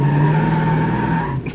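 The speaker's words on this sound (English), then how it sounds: "Think we can do a burnout right here?" An LS-swapped Wagoneer does a burnout, tires squealing in a loud, sustained screech over engine roar, close by for over a second before tapering off.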